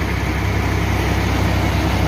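A tractor engine runs at about 1300 RPM driving a paddy husking machine, a loud, unbroken low diesel drone with a faint rhythmic throb and no talk.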